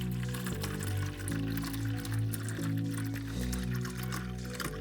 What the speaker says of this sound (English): Now let's carefully pour water inside our water reservoir